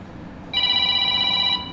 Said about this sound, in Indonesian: Waduh, ada telepon dari ini.